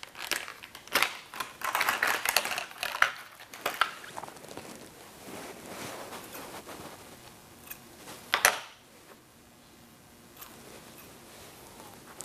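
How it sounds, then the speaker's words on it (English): Small thinning scissors snip at wig hair, with quick clustered clicks and rustling close up, then sparser cuts and a louder snap near the end. "we can even use these little thinning scissors"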